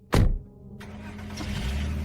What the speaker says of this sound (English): The killer got into the car and drove off